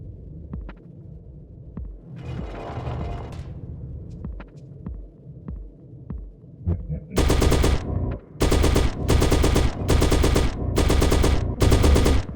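Gun in the Shrine II total-conversion mod for Doom 2 firing red shots, a low rumbling ambience with a burst of noise giving way to several loud, heavy blasts spaced about a second apart.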